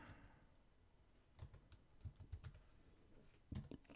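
Typing on a computer keyboard during Salesforce data entry: scattered clusters of soft key clicks, close and fairly quiet, with a sharper burst of taps near the end and no talking.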